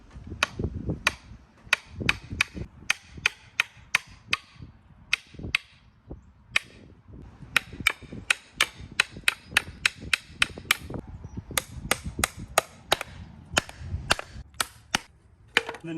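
Sharp, ringing hammer blows drive nails into wooden side pieces of a rabbit cage, a long run of close, loud strikes in quick uneven clusters with short pauses between nails.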